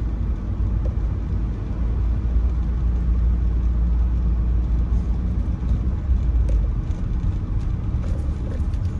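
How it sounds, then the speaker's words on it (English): A car rolls downhill through a residential street in Lancaster, South Carolina, its steady low engine and road rumble close and continuous with faint rattles, and no voices. "Right now we're driving downhill."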